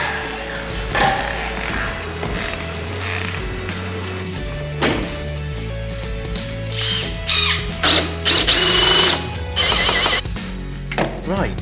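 A cordless power drill backs screws out of the cab roof of a Manitou machine in a shed. Short whirring bursts and ratcheting clicks come up close, mostly in the later seconds, over a steady background hum.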